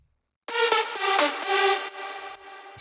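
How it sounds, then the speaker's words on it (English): Three layered synth leads from a festival drop play together after a brief silence, a thick, bright, aggressive chord phrase with rhythmic stabs, loud and upfront, no talking. "all 3 leads together sound like this"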